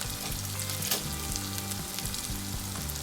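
Ginger garlic paste sizzles in hot cooking oil in a pan, a loud continuous crackle and hiss with a faint low hum running underneath.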